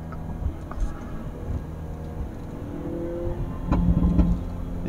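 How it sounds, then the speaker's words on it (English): A 2022 Hyundai Veloster N rolls downhill with a low, uneven engine drone, broken by a few sharp exhaust pops and crackles toward the end. "let's head back down the hill so we can hear a bit of exhaust pop."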